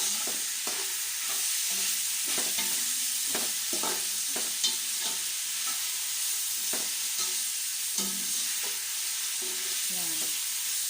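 A spoon stirs food frying in a pan with olive oil for an Arabic matsbot dish, giving irregular scraping strokes over a constant close sizzle.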